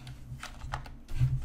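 Soft, quiet clicks of a computer keyboard being typed on in a room, a few light taps spread unevenly with a slightly heavier keystroke near the end, with no voice over them.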